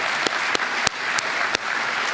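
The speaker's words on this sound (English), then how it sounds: "you all deserve another round of applause for making it through 4 years." Steady applause from a crowd at a university undergraduate award ceremony, dense continuous clapping with a few sharper claps standing out, sustained throughout.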